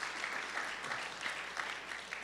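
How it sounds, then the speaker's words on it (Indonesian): Steady, moderately quiet applause from a congregation at a church anniversary service, a dense patter of many hands clapping continuously with no pauses or voices standing out. "Tepuk tangan yang meriah bagi Tuhan Yesus."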